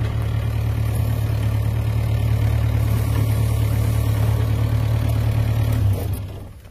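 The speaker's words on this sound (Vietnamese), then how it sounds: "máy nổ êm ru nha" Yanmar B6Z 0.25 mini excavator diesel engine idling close by, a loud, steady low rumble that holds evenly for several seconds before dropping away at the very end, with no talking.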